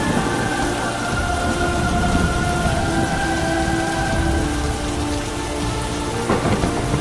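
Heavy rain pours down steadily under a pitch black sky in the game Murder Diaries, a dense, constant hiss with a low rumble underneath and a brief louder patter near the end.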